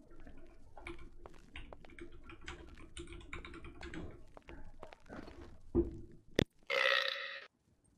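A single loud, low burp after eating near the end, preceded by quiet keyboard-like tapping and soft clicks.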